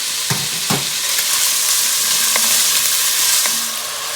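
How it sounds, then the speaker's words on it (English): Ham crisps in a generous pool of olive oil in a hot Dutch oven, a steady loud sizzle and hiss with a few sharp pops and stirring clicks, close up and with no talking. "Add a generous amount of olive oil, and I'm gonna put my ham in there."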